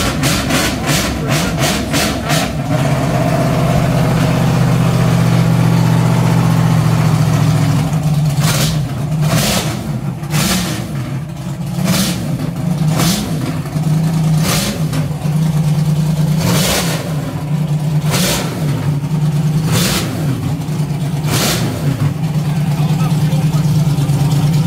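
A big-engined historic racing car at the Goodwood Revival, a T39 bobtail with a near-central driving position, idles with a deep rumble, then sends out a string of sharp, loud revs in steady bursts. People talk nearby.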